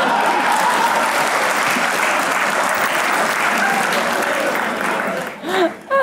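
A studio audience at a comedy talk show claps in a dense, sustained burst that fades out near the end, where a voice briefly cuts in.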